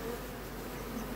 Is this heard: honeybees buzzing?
yes